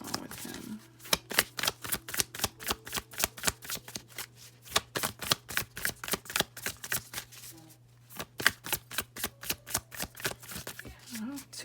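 A deck of oracle cards is shuffled in quick, crisp, evenly spaced flicks that run almost nonstop, close to the microphone, over a faint steady hum, with a brief pause partway through.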